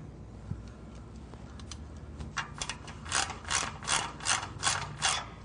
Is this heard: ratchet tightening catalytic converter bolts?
yes